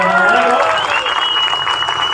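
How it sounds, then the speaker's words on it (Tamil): A crowd at a political rally claps and cheers for firefighters, the applause rising under a sustained tonal whine and a loudspeaker voice, fairly loud and continuous. "நம்ம ஃபயர் ஃபைட்டர்ஸ்க்கு ஒரு கை கைத்தட்டல் கொடுங்க"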